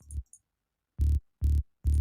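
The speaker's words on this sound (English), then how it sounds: "It's like a sine wave mixed with a sawtooth." A synth sub-bass preset blending a sine wave with a sawtooth plays as three short, deep, buzzy notes in a steady rhythm. Each note is loud and separated by silence, after a brief fragment at the start.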